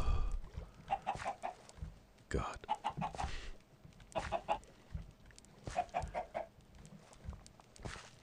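Chickens in the blocky survival game TerraFirmaCraft cluck in short, bright clusters that recur every second or two at a moderate, close level, while a voice briefly exclaims once.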